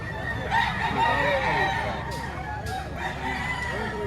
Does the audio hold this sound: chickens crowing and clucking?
yes